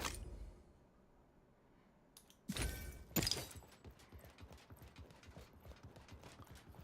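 Horse hooves clip-clop in the Realm Royale video game, a steady rhythmic patter of moderate loudness that starts after a brief quiet stretch and a couple of sharp louder hits, continuing alone.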